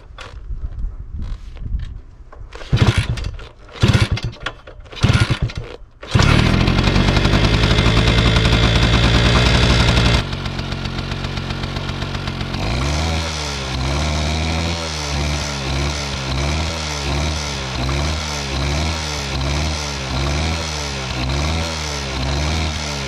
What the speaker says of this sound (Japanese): じゃあエンジンかかるかやってみます。